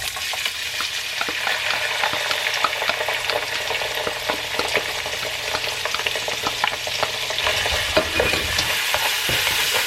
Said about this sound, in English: in here I'm going to add the onion and sriracha